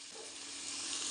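Onion fries in oil with popped mustard seeds and fenugreek, giving a brief, even, bright hiss of sizzling close up.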